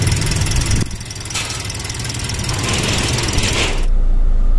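A stock Daihatsu Sigra engine runs steadily at close range, a loud rough mechanical clatter with a knocking, ticking texture, the tone shifting slightly partway through and ending in a deeper hum.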